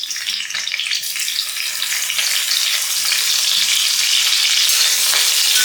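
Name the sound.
curry leaves and green chillies frying in oil while yam upperi is cooked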